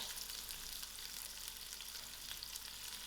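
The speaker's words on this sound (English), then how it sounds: "I'm going to put in my onions to fry" Onions sizzling steadily in two tablespoons of heated oil, a continuous close hiss and crackle for roasted pumpkin soup, with no talking.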